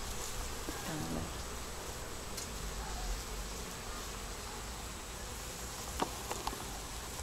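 Honey bees buzzing around a hive at a farm, a dense, steady drone from many insects close by, with a few faint clicks and no talking.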